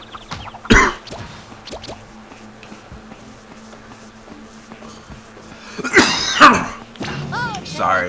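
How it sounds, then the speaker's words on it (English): A person fighting a cold coughs sharply, once near the start and then in a cluster of harsher coughs and throat clearing toward the end, close to the microphone, with quiet background between. "This fucking cough will go away."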